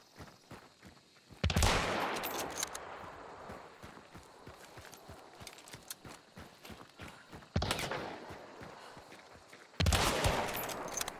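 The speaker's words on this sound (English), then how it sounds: "Getting a suppression shot is enough to get close" Gunfire in the video game Hunt: Showdown: three loud, sharp shots spaced several seconds apart, each with a ringing tail, over quieter footsteps and movement.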